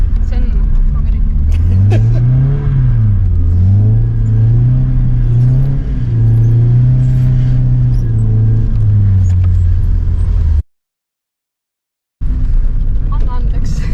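A car on a race track roars close up, its engine rising and falling through gear changes as it drives a lap, with a voice talking over it before a brief cut.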